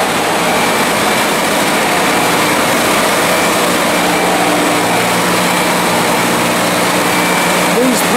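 Industrial pumps in a press room, rated at 1,600 gallons a minute with only one running, give a steady, loud broadband drone with a low mechanical hum that holds unchanged throughout.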